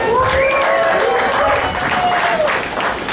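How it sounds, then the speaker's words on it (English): Audience applause at an open meeting held in a cantina, a steady roomful of clapping with some crowd noise and a few whistles, sustained and fairly loud throughout. "so give them a round of applause."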